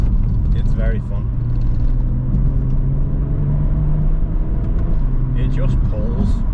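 A car accelerating hard, its engine droning as a steady rising tone under the road rumble inside the cabin, loud and continuous, while a person talks over it.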